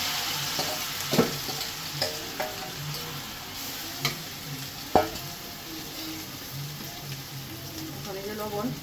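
Black cumin seeds sizzle in hot oil in a pan for mustard hilsa, a soft steady frying hiss with occasional clinks and stirring knocks, fairly quiet and close.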